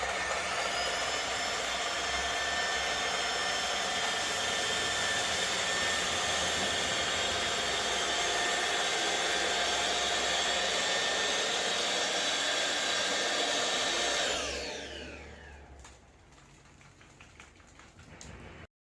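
A Dibea D008 cordless stick vacuum runs with a steady, loud, high motor whine for about fourteen seconds before it spins down and cuts off, leaving quiet room noise.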